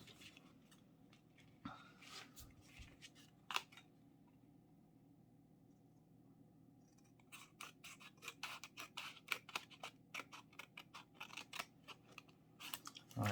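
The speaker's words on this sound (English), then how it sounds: "you want to grab a pair of scissors and you want to cut this line here up to the bottom of this flap here" Scissors cut paper for an origami horse, a quiet and close series of crisp snips, with a few isolated cuts and then a quick run of rapid cuts toward the end.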